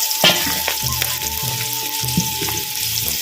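Karonda fruit pickle sizzles and crackles as it is added to hot oil in a pan, a close, steady frying hiss with intermittent pops and stirring clinks.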